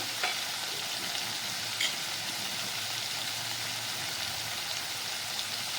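Cumin paste, chilli powder and coriander paste fry in oil for a spicy fish curry, an even, dense sizzle with a couple of faint stirring taps, steady and close, without speech.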